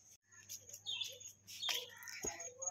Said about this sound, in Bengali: আওয়াজ পাচ্ছ পাখির কিচিরমিচির?